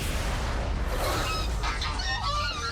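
Geese honk in a noisy chorus at a maximum security prison in Brazil, where they guard inmates; the calls are scattered and fairly distant over a steady, dense background din.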